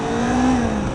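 A 2019 Kawasaki Z400 motorcycle engine holds a steady, close rev for under a second, loud and continuous with a sustained tone and no talking.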